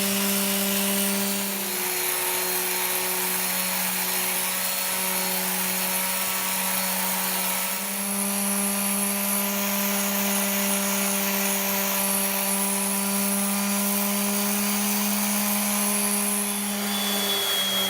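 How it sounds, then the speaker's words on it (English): A quarter-sheet sander with 80-grit paper works the CNC-machined carved top of a Floyd Rose guitar body. It gives a continuous close buzzing whir with a rough, scratchy edge, briefly dipping near the middle. No voices. "I'll start out with my quarter sheet sander and some 80 grit sandpaper just to remove most of the tool marks"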